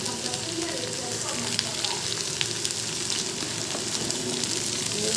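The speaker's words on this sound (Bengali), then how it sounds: "কাঁচা লঙ্কা বেটে রেখেছিলাম সেটা দিয়ে দেবো। এটা দিয়ে আমি ভালো করে নেড়ে নেব।" Green chili paste sizzles in a pan as it is stirred, with a steady frying crackle and scattered clinks of utensil contact, moderately quiet and close.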